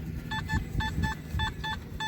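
A Simplex metal detector in park mode emits a repeated ringing tone of short, evenly spaced beeps, about seven in quick succession, steady and close over faint background noise.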